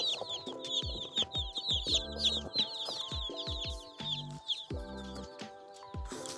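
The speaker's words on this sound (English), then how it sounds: "You can hear them in the post office chirping away." Meat chickens packed in a shipping box at a post office chirp and cluck constantly, a busy overlapping chorus of high peeps close by, with occasional low thumps of the birds shifting inside the box.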